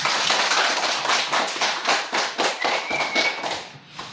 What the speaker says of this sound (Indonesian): Beri tepuk tangannya dulu untuk kita semua.